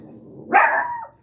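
A puppy gives a single sharp, loud bark close by, rising out of quiet room noise with no talking.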